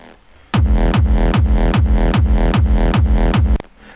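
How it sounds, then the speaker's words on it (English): Hardstyle bass layer built on a Nexus synth: seven loud, evenly spaced punchy hits with deep distorted low end and bright tails, pulsing about every half second, alone and up front after a brief quiet lead-in. "I use Nexus, by the way, to make this bass."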